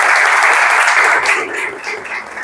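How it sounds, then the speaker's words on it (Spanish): Loud, dense applause from an audience at a school debate tournament, sustained clapping that thins and fades toward the end, with no voices over it. "Fuerte el aplauso."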